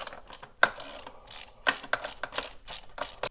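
A hand ratchet loosens a bolt on the PCV valve of a 2014–2018 Subaru Forester, giving quick repeated clicking bursts with a sharp snap near the start, close up with no talk.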